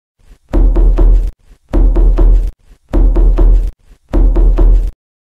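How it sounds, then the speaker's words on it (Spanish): Knocking on a door in four loud, separate bursts, each a quick cluster of raps with short silent gaps between the bursts and no voices. "cuando en eso alguien toca la puerta"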